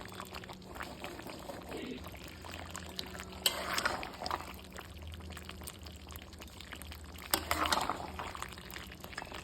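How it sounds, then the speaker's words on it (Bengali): Hot water poured into a pot of mutton curry with potatoes, two separate gushing pours a few seconds apart over a low bubbling simmer, fairly quiet and close. "এখন আমরা জল দিয়ে দেবো। গরম জল দেব।"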